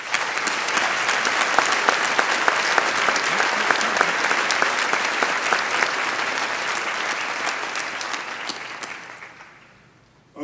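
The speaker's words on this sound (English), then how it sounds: "I want to have a big round of applause for our faculty" A graduation crowd at the University of Maryland School of Medicine, class of 2012, applauds the faculty with sustained, dense clapping that holds steady, then fades out near the end.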